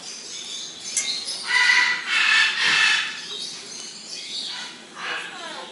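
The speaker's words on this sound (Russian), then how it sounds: "И вот птички." Small tropical birds chirp and twitter in a zoo bird house, a steady bright chatter of overlapping calls with several louder bursts, fairly close.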